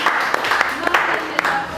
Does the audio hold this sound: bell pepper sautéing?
no